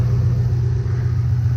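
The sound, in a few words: 2005 Ford Mustang GT engine idling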